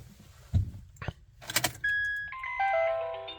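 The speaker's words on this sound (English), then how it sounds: "That tiny little click, almost nothing." A faint starter click sounds when the key is turned in a Honda Ridgeline or Pilot, followed by a soft chime and steady electronic dashboard dinging tones, with no engine cranking or catching.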